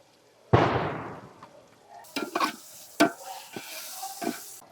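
Curd, tomato, onion and masala powders get stirred in a pan, with a sharp splatter burst at the start followed by irregular scraping strokes and soft sizzling, close by and without speech.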